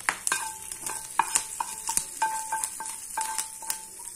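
Hot tempering of curry leaves and asafoetida poured into groundnut chutney, giving a crackling sizzle with sharp pops and scraping clinks from a spoon, close and steady throughout.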